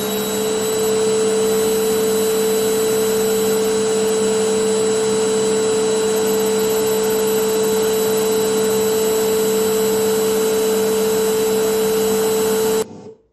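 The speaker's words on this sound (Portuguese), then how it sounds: "Vamos ver aqui o barulho de um aspirador de pó" A household vacuum cleaner plays as a recording, a loud, steady whining drone with a sustained high tone that runs unchanged for about thirteen seconds before cutting off abruptly.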